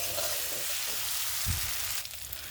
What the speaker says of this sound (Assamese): আলুখিনি এতিয়া মই মছলাখিনিৰ সৈতে আকৌ 1 মিনিট টাইম ফ্ৰাই কৰি ল'ম